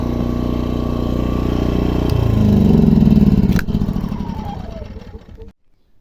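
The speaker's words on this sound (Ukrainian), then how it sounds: "Інверторний генератор 2 кВт." A 2 kW inverter generator running under test, a loud steady low engine drone with a rising pitch shift partway through as the load changes, then cutting out abruptly near the end, close by.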